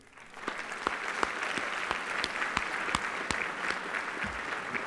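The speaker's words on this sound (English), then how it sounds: "I would like to ask our students to please join me in a round of applause for all of you." Students applauding at a 2019 high school academic awards ceremony, a swelling, sustained round of clapping from a large indoor audience with distinct individual claps standing out near the microphone.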